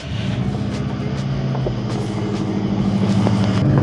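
Subaru WRX STi engine running with a steady, deep rumble close by, holding an even drone throughout with faint clicks and slight variations on top.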